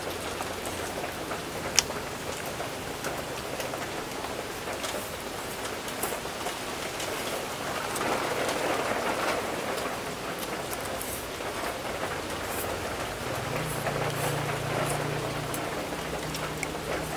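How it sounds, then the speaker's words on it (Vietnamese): Steady rain falling outdoors in the Mekong Delta countryside, a constant even hiss with scattered drips and pattering over the whole stretch, with a low hum joining near the end and no talk. "hết mưa rồi"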